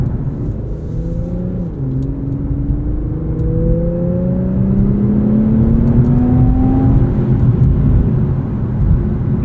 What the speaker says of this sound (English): the 7-speed does do a nice job holding gears, letting us ride out that torque from that twin-turbo V6